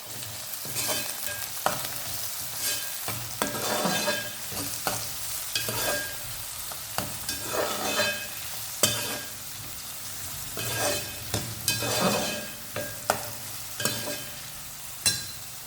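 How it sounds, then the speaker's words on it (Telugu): Chopped onions and curry leaves frying in hot oil for a Telugu curry, an ongoing sizzle broken by repeated scraping stirs of a spatula at an uneven rhythm, close and clear with no talking. "ఉల్లిపాయలు, కరివేపాకు కూడా వేసుకుందాం. వీటిని ఒకసారి కలుపుకుందాం."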